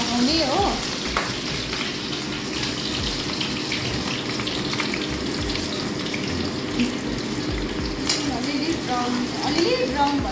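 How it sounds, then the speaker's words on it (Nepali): Chopped onions frying in a pan for homemade chicken biryani, a continuous sizzle with scraping stirs and some watery splashing, steady and close throughout. "अन्त अहिले प्याजलाई पकाउने हो।"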